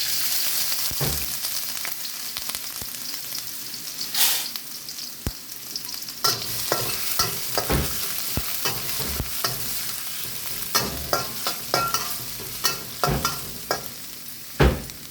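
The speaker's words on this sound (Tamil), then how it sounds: "இப்போ நாங்கள் இஞ்சி பூண்டு போடுறோம்." Ginger and garlic fry in a generous amount of oil over a slow flame, a steady close sizzle punctuated by frequent sharp scrapes and clinks of a spatula stirring the pan.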